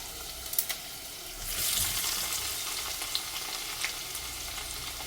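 A soft, continuous sizzle of onions frying in a pan for small fish curry, with a few faint clinks and scrapes over the low hiss.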